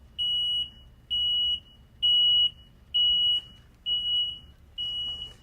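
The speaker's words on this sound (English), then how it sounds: "That's what you're hearing beeping right now, is glow plugs." A tractor's glow plug indicator beeps high, repeating six times at an even pace, each tone about half a second long, with a quiet hum underneath.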